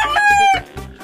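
A rooster crows loudly and close, a single full cock-a-doodle-doo call ending in a trailing note.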